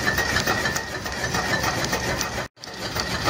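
A wood-fired DIY Stirling engine generator running, giving a steady mechanical whir with a fast rattling, ratchet-like ticking, loud and continuous apart from a brief dropout near the end.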